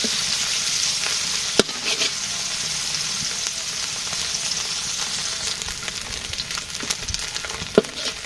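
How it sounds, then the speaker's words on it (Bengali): Small taki fish fry in hot oil with a constant crackling sizzle at moderate level, with two sharp pops standing out briefly. "মাছটা ভেজে নিতেছি"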